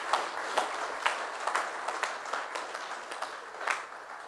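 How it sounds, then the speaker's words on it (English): Audience applause at a New York launch event in 2011: a crowd's dense, sustained clapping fills the whole stretch, steady and fairly loud with small swells and no talk over it. "I want a big round of applause for you guys."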